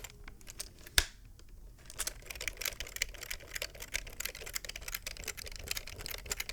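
Fingers type on a General Electric computer keyboard in quick, close, crisp clicks with a sharp knock near the start, steady and soft with no speech, in a high-sensitivity ASMR setting.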